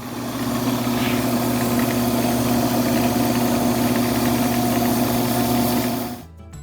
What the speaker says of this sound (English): I'm gonna go ahead and flatten this down with some 400 grit